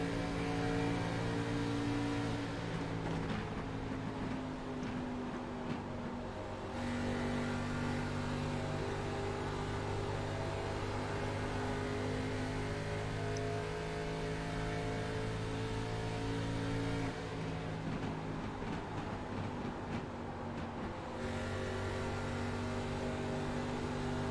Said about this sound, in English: let's go on board of that 88 for a lap around Kentucky